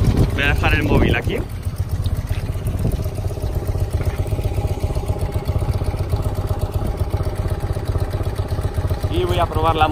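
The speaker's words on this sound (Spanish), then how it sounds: "Voy a probar la moto un poquito por aquí," A BMW R100 T motorcycle's engine idles while the bike stands still, a steady low throbbing rumble close up, with someone speaking briefly at the start and again near the end.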